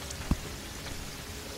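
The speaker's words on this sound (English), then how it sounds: "There are rain clouds near me." Steady rain falls from rain clouds in the video game Terraria, a soft continuous hiss with a single sharp droplet tap near the start.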